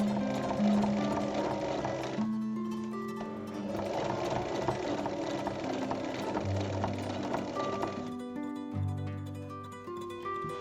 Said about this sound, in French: on passe sur l'endroit et on va surpiquer de chaque côté de la couture